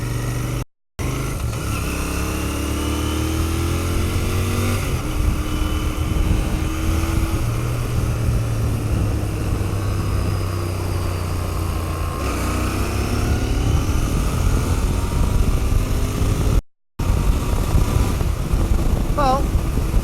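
Royal Enfield Continental GT650 motorcycle accelerating hard on the road, its engine note rising and falling through gear changes with loud, continuous wind roar, heard close up from the rider's position, and two brief dropouts.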